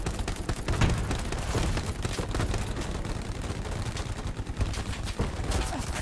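Dense gunfire rattles through a Hell Let Loose World War II battle on Purple Heart Lane, with rapid overlapping rifle and machine-gun bursts and heavy booms sounding continuously and loud for the whole stretch.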